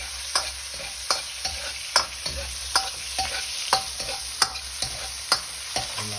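King prawns fry in hot oil in a wok, with a steady sizzle under regular sharp clinks and scrapes of stirring, close and clear with no talking.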